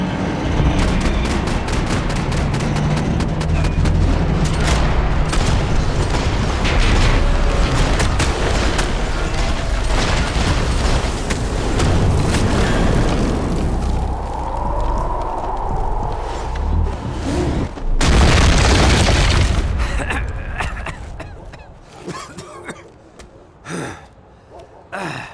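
Gunfire and explosions in Max Payne 3: loud, dense shooting with heavy booms, then a deep rushing blast and scattered shots as the action thins out, with gasps and short breaths over it.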